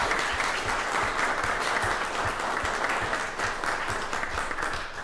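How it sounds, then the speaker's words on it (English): People applaud at a city council meeting to honor SAP students, a sustained crowd clapping with a few sharp, closer claps standing out from the steady patter. "a round of applause for our SAP students."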